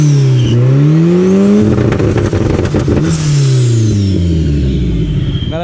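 A lowered Volkswagen Gol fitted with a turbo kit revs loudly close by, its engine note rising and falling in several sweeping pulls with a brief sharp burst in the middle.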